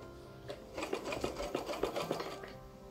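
A hand-operated USHA straight sewing machine runs close by, its needle stitching in a quick, even, rhythmic clatter for about two seconds, with no talking.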